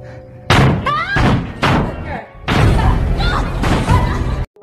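A wedged door thuds and slams repeatedly as a man tries to force it open, heavy close knocks and bangs coming in bursts with voices mixed in.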